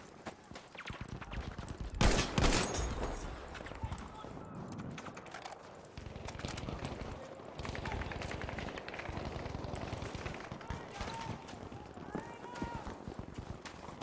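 A gun fires repeatedly in Battlefield 5, with bursts of shots amid busy combat noise and a strong crack near the start.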